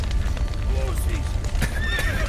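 Horses neigh and whinny in short rising calls over a steady low rumble, with shouting voices mixed in, in The Witcher 3: Wild Hunt, from a building with a collapsed roof.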